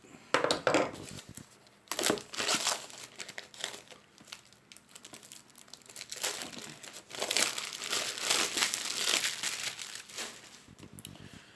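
Plastic shrink-wrap and packaging being torn and crinkled off an Alien RPG Destroyer of Worlds boxed set, close and crisp, in irregular bursts of crackling with short pauses between.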